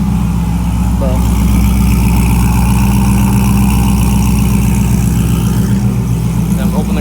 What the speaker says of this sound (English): It definitely has more of an intake noise, as you can hear.